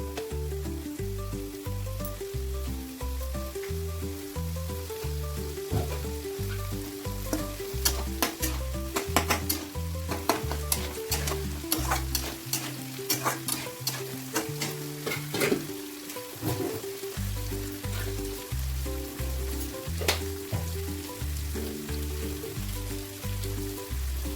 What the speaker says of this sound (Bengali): এদিকে পনিরের তরকারিটাও মোটামুটি হয়ে এসছে